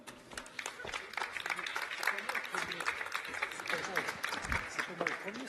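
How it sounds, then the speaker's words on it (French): An audience at a Paris risk-prevention conference applauds as Patrick Ollier, president of the Métropole du Grand Paris, comes up to join the host, a steady patter of many hands running under ongoing talk. "Patrick Ollier, là que vous allez applaudir"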